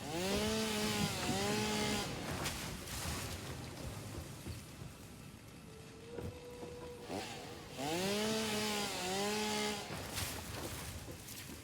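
A chainsaw in the video game Satisfactory cuts repeatedly, its loud buzzing engine rising and falling in pitch through two long revving bursts separated by a quieter stretch with a brief tone.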